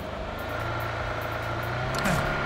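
A vehicle driving in the video game PUBG Mobile gives a steady, close engine drone that holds throughout, with a brief rising revving sweep near the end.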